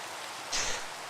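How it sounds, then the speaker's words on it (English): Minecraft rain falls as a steady, soft broadband hiss, quiet and even, swelling briefly louder midway through before settling back, with no voices. "Of course, it's raining again."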